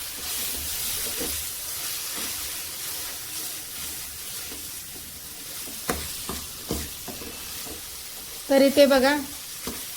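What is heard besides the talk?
turmeric and garam masala being mixed into hot oil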